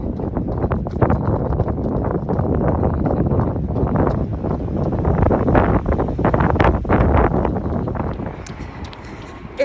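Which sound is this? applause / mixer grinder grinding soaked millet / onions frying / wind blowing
wind blowing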